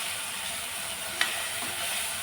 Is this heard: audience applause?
no